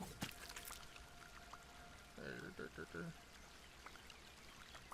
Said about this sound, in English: I also hear water running